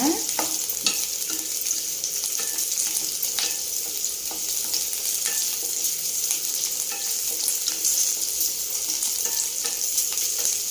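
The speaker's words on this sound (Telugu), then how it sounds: "వేయించుకోవాలండి పచ్చివాసన పోయిందాక" Ridge gourd masala fries in a pan with a steady, close hiss of oil, punctuated by occasional scrapes and clicks of stirring, and no talking.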